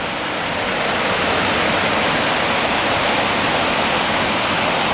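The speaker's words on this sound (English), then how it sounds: "Look at the waterfalls down there" Waterfalls rushing below an old rusty railroad bridge, a loud, steady broadband roar of falling water that holds evenly from start to finish.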